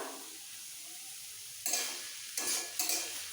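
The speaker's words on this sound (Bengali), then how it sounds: "ভালো করে কষিয়ে নেবো একদম ঝরঝরে হওয়া পর্যন্ত" Spices with red chili powder and slit green chilies stir-fried in a pan for chichinga posto: three loud scraping, sizzling stirs after a quiet simmering start, close and without voices.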